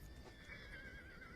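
A horse named Chetak gives a faint, drawn-out whinny that rises and wavers over a low background rumble, heard alone and fairly distant.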